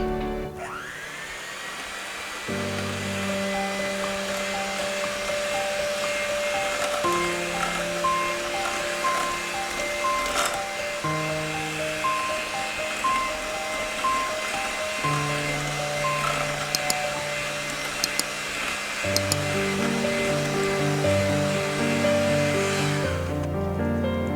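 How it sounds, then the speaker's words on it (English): Chocolate cupcake batter with whole milk is mixed, giving a steady whirring motor drone that steps up and down in pitch, close and continuous. "half a cup of whole milk, just like so. And I'm gonna come in here and mix away"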